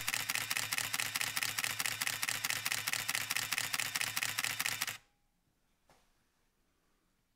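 Canon EOS RT film camera with fixed mirror firing its shutter in standard mode, a rapid, evenly spaced burst of sharp mechanical clicks close up for about five seconds, then stopping abruptly into near silence with one faint click.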